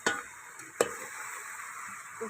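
Muthiya dhokla made with leafy greens being stirred slowly in a pan, with a couple of soft scraping strokes and a light sizzle underneath, close and quiet.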